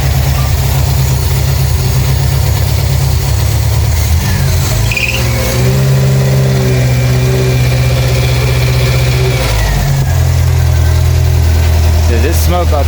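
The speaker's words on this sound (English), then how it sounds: "Got an exhaust leak, I see." A Renault 5 engine idling loud and close with an exhaust leak, a steady rough chugging with a brief rev change partway through and a small squeal near the end.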